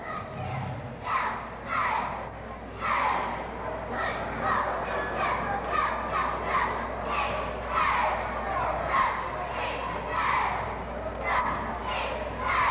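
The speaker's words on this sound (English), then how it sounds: "There you see the crowd" Crowd at a 1994-95 high school basketball game between Logan and Warren, late in the fourth period: a steady, distant murmur of many voices with soft swells, while a commentator talks over it.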